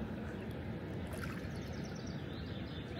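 The fast current of the Aare river rushes and gurgles in a steady, fairly faint broadband wash. It sounds heard from close to or in the water, and no voices are present.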